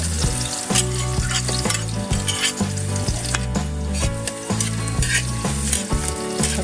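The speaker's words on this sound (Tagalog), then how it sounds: "Ilagay na po natin ang bawang at ang sibuyas na po." Garlic and onion sautéing in a pan for ginataang palaka: a loud, continuous sizzle with stirring scrapes runs close up over a rhythmic, music-like background pattern, no voices.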